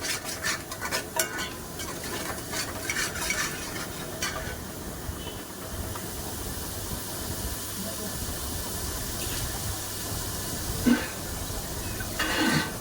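Fish curry masala fries and sizzles in a pan while a utensil repeatedly scrapes and stirs it, producing a steady hiss broken by irregular clinks and scrapes from the stirring.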